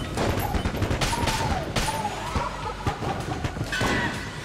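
Tap-fired gun shots in Enter the Gungeon, a rapid stream of sharp crackling pops with clattering game effects layered underneath, dense and fairly loud throughout.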